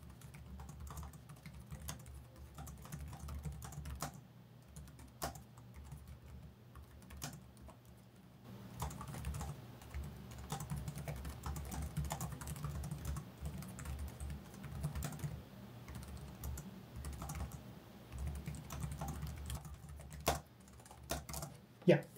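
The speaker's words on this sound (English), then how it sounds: "So let's do a quick typing test here." Steady typing on a 2024 Alienware x16 laptop keyboard, quiet clicking keystrokes in quick irregular bursts, close up with a little faint background noise.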